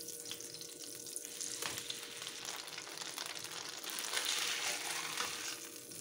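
Ham browning in a hot pan with beef for a homemade salchiburger, a continuous dense sizzle and crackle holding steady and swelling slightly louder toward the end, with no voices.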